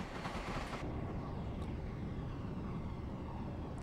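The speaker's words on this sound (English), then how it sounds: "Another train coming in." Train Simulator rumble of a train running on the South Western Main Line near a Class 444 unit between Southampton and Bournemouth, a continuous heavy low roar with a sharp brief change early on, close and loud without talk.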